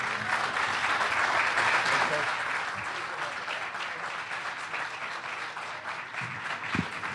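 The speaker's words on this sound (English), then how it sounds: "So I'd like for a nice round of applause for our friends from TCU and for Gary Patterson." A crowd applauds TCU and coach Gary Patterson at a team arrival event, steady clapping that fades slightly, with faint voices underneath.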